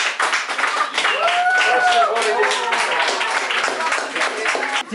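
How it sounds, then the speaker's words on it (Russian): Loud clapping and applause from a group, including children, at the opening of a school sports hall, with excited voices and cheering over the claps. "Аплодисменты! аплодисменты!"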